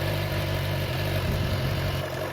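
2017 BMW S1000XR factory low-height motorcycle idling just after starting, a steady, loud, close rumble with an even low-pitched throb and no talking.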